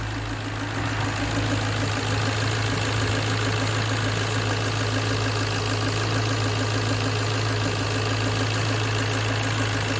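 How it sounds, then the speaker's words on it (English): A Ford Focus Mk1 with the Sigma engine idles smoothly and steadily just after an oil change, a constant close hum with a faint belt whine on top. "That is how a happy Ford Sigma should sound like."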